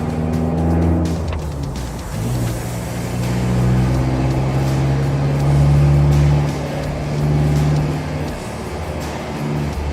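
A 2016 Isuzu D-Max 1.9 S pickup with a modified cab revs hard on a test drive, the engine rising and falling in loud, sustained surges with a deep growl and faint tire noise, no voices.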